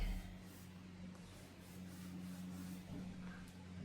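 Soap being rubbed over the face of a tarot card pressed flat on a surface, a soft continuous close-up scraping and brushing with a low steady hum underneath, no talk.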